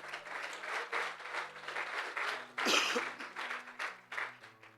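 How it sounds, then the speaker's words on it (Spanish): A church congregation claps continuously over a soft sustained musical tone, swelling to a louder burst midway before continuing. "dale ese aplauso al Señor"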